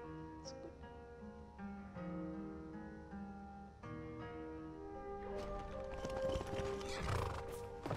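A horse in the video game Skyrim whinnies and then clops its hooves in a rapid run, over a steady musical background, getting louder toward the end.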